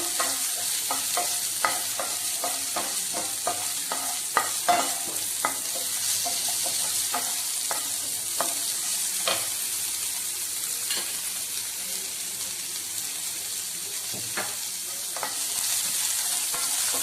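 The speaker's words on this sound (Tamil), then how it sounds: "இப்போ நான் பெரிய வெங்காயம் தான் போடுறேன்" Sliced large onions frying in a pan give a steady, moderate sizzle, marked by frequent crisp taps and scrapes of a spoon stirring, close and continuous with no talk.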